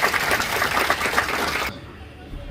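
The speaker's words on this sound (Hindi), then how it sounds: "एक बार चौकीदारों के लिए जोरदार तालियां बजाइए।" Brief burst of dense clapping from a crowd at a Jharkhand Foundation Day event in Sahibganj, applauding village watchmen, loud and close, then cutting off abruptly into quieter room tone.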